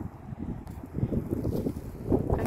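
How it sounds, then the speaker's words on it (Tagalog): Wind buffets the microphone outdoors on a high hiking trail in April, a steady low rumbling gust that swells toward the end, with no other sounds standing out. "Ah, ang hangin, guys. Ang ano ng hangin."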